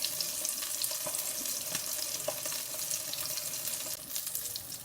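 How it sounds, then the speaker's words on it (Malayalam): Mackerel fish frying in a pan over a low flame, with a steady bright sizzle and occasional crackles and pops, evenly loud throughout. "ഇനി ഈ ഒരു ഭാഗവും കൂടി നന്നായിട്ടൊന്ന് ഫ്രൈ ആയി വരട്ടെ."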